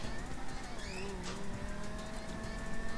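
Car engine driving in the video game GTA 5, a steady droning motor with slight pitch shifts and a brief tire squeal, continuous under a busy game mix.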